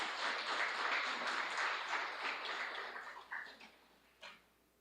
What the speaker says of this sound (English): We need to clap for that, yes?